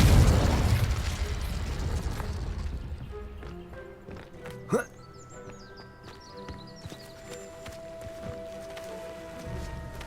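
A Confringo fire blast spell in the video game Hogwarts Legacy erupts as a loud burst at the start and decays slowly. A sharper pop follows midway over a steady in-game backdrop with tonal music.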